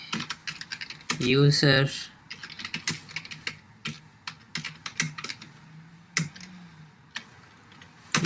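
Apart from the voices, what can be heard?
typing code on a computer keyboard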